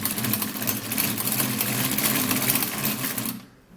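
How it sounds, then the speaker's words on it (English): A manual hand mixer whirs steadily, mixing a hair treatment, a close, even mechanical drone that cuts off abruptly near the end. "So I'm going to first of all get my manual mixer and mix this really well."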